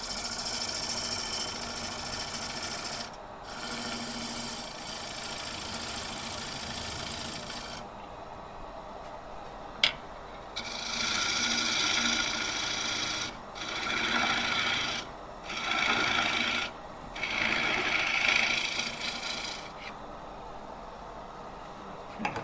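A tool cuts down a green apple wood tenon on a lathe, giving bursts of harsh, rasping scrapes that start and stop repeatedly over the steady hum of the spinning machine, close and with no talk.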